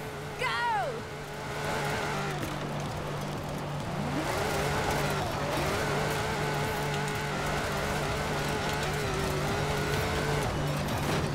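A race car driven in Forza 4 gives a steady engine whine that rises and shifts pitch as it accelerates, with a sweeping tire or skid sound, under occasional talk.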